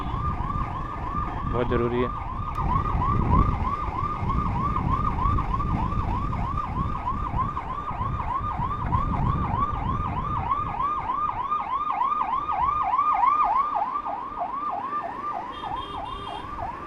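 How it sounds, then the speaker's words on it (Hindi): A wailing ambulance siren cycles steadily and loudly over road traffic rumble in the Delhi region of India, with a brief voice speaking partway through. "एम्बुलेंस आ रही है भाई, और एम्बुलेंस का रास्ता देना"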